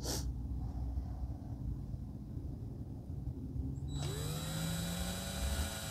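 A power drill whirs up partway through while driving screws into a flat-pack bookshelf, its pitch rising as it spins, following low mechanical rumbling and a brief sharp noise at the start.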